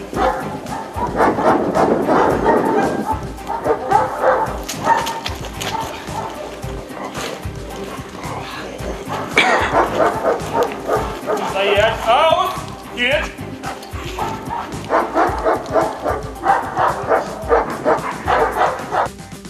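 Several dogs trained for military work in a conflict zone bark and yip repeatedly in loud, overlapping bursts, with occasional whimpers, while people talk nearby throughout.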